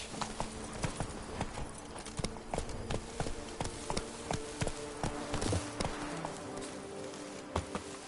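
Horse hooves gallop in a PS4 video game, a steady stream of rhythmic clip-clop beats over a continuous background bed, with no clear talking.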